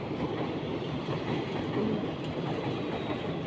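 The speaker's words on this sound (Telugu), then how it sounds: "ట్రైన్ వెళ్తుందండి. ట్రైను చూడండి, ఒక రోజు ఇదే బాధ." A train rolls past close to a house, a steady loud rumble of wheels and rail clatter that fills the whole stretch without a break.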